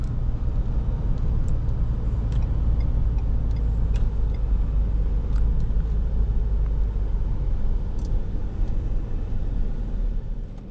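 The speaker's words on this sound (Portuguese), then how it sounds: "Você escuta a turbininha girando." Steady loud engine and road rumble from inside a 2023 Ford Expedition XLT under acceleration in sport mode, with a faint whistling turbo and light interior rattles over a continuous low drone.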